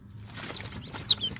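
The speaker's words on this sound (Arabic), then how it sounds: "أنا طالع لي هنا كتاكيت برهمة وكتكوت واحد بزراميط" Young Brahma chicks peep in thin, sharp high chirps, a few scattered calls over soft rustling and faint low clucking, heard close up.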